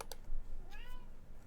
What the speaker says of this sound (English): It's his adorable I want pets meow